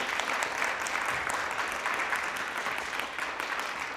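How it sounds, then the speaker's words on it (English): An audience at a rural transportation advocacy event gives a panel a sustained round of applause, even and full throughout. "can we give a huge round of applause for this panel?"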